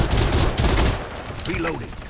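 Heavy artillery fire in an online game match, with a dense burst of booming blasts and crackling impacts over the first second. Quieter rumbling and tonal game effects follow.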